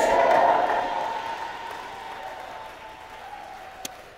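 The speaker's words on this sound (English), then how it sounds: "If you want to clap, keep on clapping, keep on clapping." A church congregation applauds during an evangelism service, the clapping loudest at the start and then fading gradually, with a faint voice beneath it.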